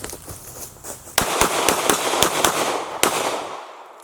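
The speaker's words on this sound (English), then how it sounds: "2 shots on target, mag out, 2 shots on target." A 9mm Glock 43 pistol fired in drills, with two or three quick sharp shots, a short pause during a magazine change, then more loud, close cracks with ringing echo before quiet.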